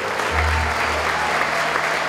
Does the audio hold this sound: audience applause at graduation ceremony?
yes